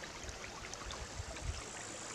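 Cool water of a small brook flows steadily, making a soft, even rush with faint gurgles that stay at a low level throughout.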